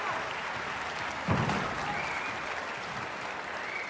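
Spectators at a squash final between two professional players applaud in a continuous, full-bodied wash, with a brief murmur of voices under the clapping.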